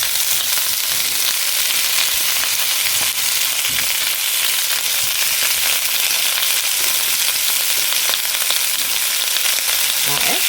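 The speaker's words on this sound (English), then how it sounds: "Again, it is popping because the pan is really hot." Lemon butter garlic popping in oil in a very hot pan, a loud, dense, continuous hiss and crackle heard close up and alone, with no talking.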